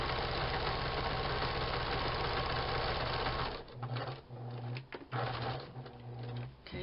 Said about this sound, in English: And then I'm sewing one side.